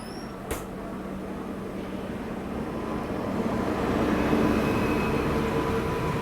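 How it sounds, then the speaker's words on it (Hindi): A train hauled by a WAP5 electric locomotive rumbles steadily closer into platform 1 of a station, its broad roar slowly building, with a brief sharp clank near the start. "WAP5 के साथ देखते हैं कौन सी गाड़ी आ रही है प्लेटफॉर्म नंबर 1 पे।"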